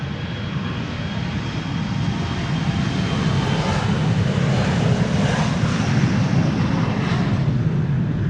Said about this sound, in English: Another Embraer 175. This is KLM flight 1177 to Stavanger.